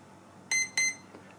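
An ESC gives two short, clear electronic beeps about a quarter second apart during PWM throttle calibration with a ToolkitRC WM150 watt meter, each a steady tone over a quiet background.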